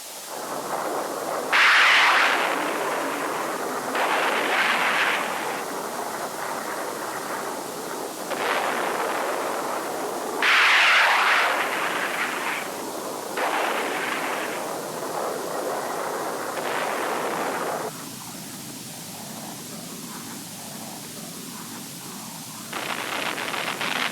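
Vietnam War tactical airstrikes and gunfire sound as a series of loud, rumbling blasts and bursts, several separate booming peaks spread over the span with a steady noisy roar between them, no talk.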